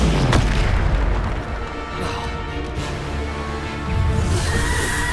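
Bombarda spell explosions in the Hogwarts Legacy video game, heavy booming blasts with rumbling low end amid dense game combat noise, loud and continuous with a sharp crack at the start.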